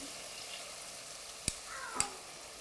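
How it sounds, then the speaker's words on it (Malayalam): Shallots sauté with ginger and garlic in a pan, giving a faint, steady sizzle in a Kerala kitchen, broken by two short, sharp clinks of a utensil. "ചെറിയുള്ളി ഇട്ട് അത് നേരിയ ബ്രൗൺ കളർ ആവുന്ന വരെ വഴറ്റണമാണ്"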